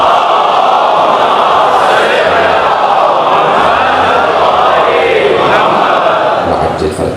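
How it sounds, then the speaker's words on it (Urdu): A large crowd gathered at a Muharram majlis in an imambargah in Karachi recites salawat loudly in unison, a dense, sustained wall of chanting voices with no pauses. "ایک بلند آواز سے صلوات کی عظمت فرمائیں گے"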